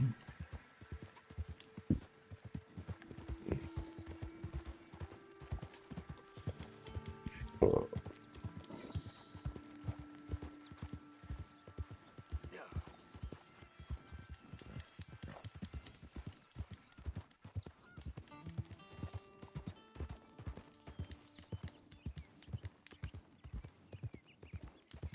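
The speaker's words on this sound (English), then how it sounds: "Was that a horse" Horse hooves clip-clop in a steady, rapid rhythm throughout, moderately close, with occasional faint whinny-like tones and brief talk in the background.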